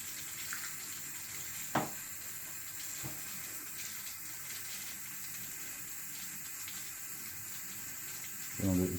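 Water trickles steadily out of a carbon filter during a chlorine test, a faint continuous running sound with a couple of brief splashy bursts, near and quiet with no speech.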